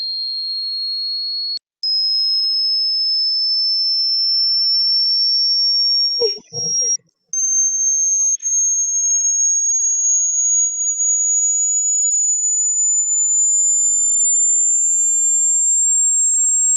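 A loud pure sine test tone for checking hearing sweeps slowly upward in pitch. It holds steady almost throughout, broken by a short gap and a brief muffled knock midway.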